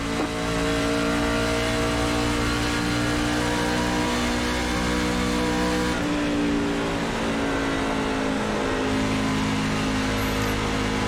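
NASCAR stock car engines at Charlotte in the iRacing sim roar loud and close in one sustained drone, with a brief shift in pitch partway through as the revs change.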